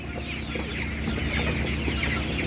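Chickens and roosters cluck and chatter continuously at a busy village livestock market, a dense, close flock of overlapping calls with no clear talk over it.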